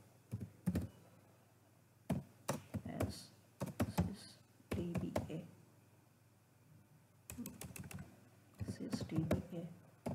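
Computer keyboard typing into a command prompt on a laptop, heard as short bursts of keystroke clicks with pauses between them, close and moderately quiet, with soft speech-like sound mixed in and a steady low hum underneath.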